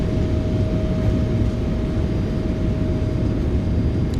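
Reverse thrust on a Boeing 777F roars as the flight-simulator freighter decelerates on landing, a dense, steady broadband rush with a faint constant whine running through it.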